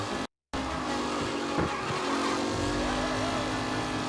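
A race car in Mafia: Definitive Edition howls along with a strained engine note while its tires squeal and skid through corners, loud and close, with a brief dropout early on and someone talking underneath.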